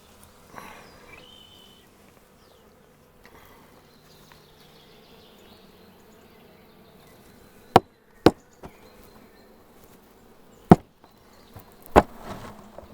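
A faint, steady buzz of a honeybee swarm hums throughout, broken by several sharp, loud knocks and taps.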